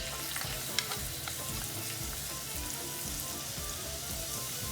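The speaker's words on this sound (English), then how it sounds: "Once the oil gets heated, I add the chopped garlic." Chopped garlic frying in hot oil in a pan for pasta sauce, a continuous close crackling sizzle with light stirring.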